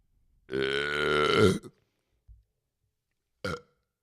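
A long, loud, drawn-out burp lasting about a second, followed by a tiny low blip and then a short second belch, set against near silence.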